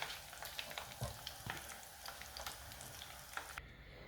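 Beef stir-frying in an oiled pan for Mongolian beef crackles in a dense, continuous sizzle close up, with light scraping stirs and small pops, cutting off abruptly near the end.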